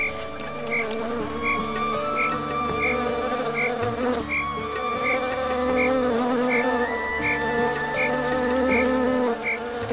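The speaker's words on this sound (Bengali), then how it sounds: "ওদের থেকে ঝিঝির আওয়াজ আসছে" Crickets chirp in short, evenly spaced pulses over a dense outdoor insect drone with a continuous buzz and low hum, all at a steady, moderate level.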